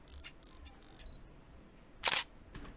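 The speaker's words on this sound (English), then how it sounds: "in the audio sound effects I will import this camera focusing and shutter" Camera focusing and shutter effect: a few short buzzy focus whirs followed by a single sharp shutter click near the end, close and isolated.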